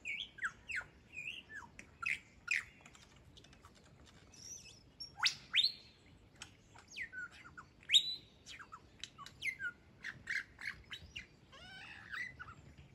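A superb lyrebird sings in the forest of the Dandenong Ranges, pouring out a varied run of loud whistles, sharp chirps, squawks and mimicked calls in quick irregular bursts, close and clear over a quiet background.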